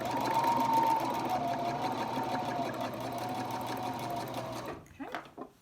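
A sewing machine stitches folded fabric for a face mask, producing a loud, steady mechanical whir close by that runs continuously before stopping abruptly, followed by a few handling clatters.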